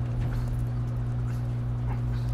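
A puppy in the video game Metal Gear Solid V whimpers faintly above a loud, steady hum of game sound.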